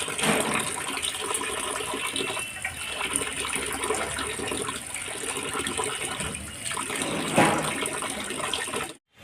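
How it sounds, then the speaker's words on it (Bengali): Fish are washed in running water for a Bengali fish curry, heard as continuous splashing and gushing water close by, with brief swishes and sloshes before it cuts off at the end. "ভালো জলে ধুয়ে নিলাম"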